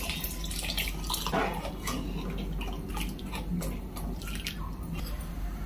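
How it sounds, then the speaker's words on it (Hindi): Water is poured into thick dal simmering in a pressure cooker in a home kitchen, making a steady splashing trickle with soft drips throughout, close by and with no talking. "दाल अभी थोड़ी गाढ़ी है तो पानी और डाल रही हूं"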